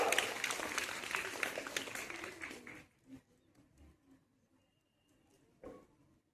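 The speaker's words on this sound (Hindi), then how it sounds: "ताली बजाएंगे आपसे एक बार" An audience at a school cleanliness quiz bursts into lively hand clapping that fades out after a few seconds, leaving a quiet room with scattered faint knocks and a brief later clap.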